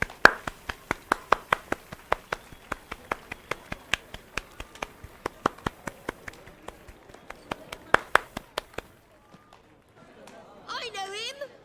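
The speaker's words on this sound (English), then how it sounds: "Wow, standing applause." Audience in The Witcher 3 giving standing applause: a long run of sharp, evenly spaced claps that stops abruptly, followed by brief quiet and then a short musical or vocal phrase.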